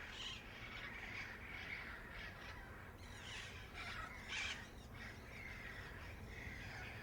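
Exotic parrots in Florida, including small nanday or black-headed parrots, give sharp, harsh squawks repeatedly over a steady outdoor background, moderately distant and fairly faint.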